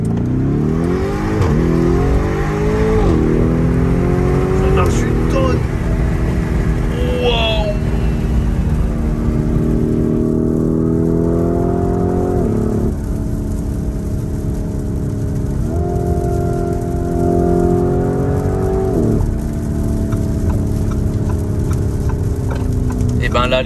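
Lamborghini Urus SUV, a 650 hp model, accelerating hard in Corsa mode, its engine note rising through several gear changes in repeated climbing sweeps, loud and close from inside the cabin with a person talking over it.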